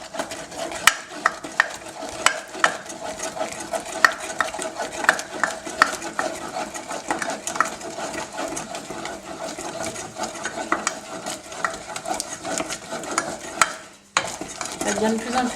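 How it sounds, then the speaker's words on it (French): Homemade pink praline sugar mixture is stirred continuously in a pan just off the heat, giving a steady scraping, grainy swish with small clicks of the utensil against the pan, close and moderately loud, breaking off briefly near the end. "Et hors du feu, tout de suite, je vais bien mélanger sans jamais m'arrêter."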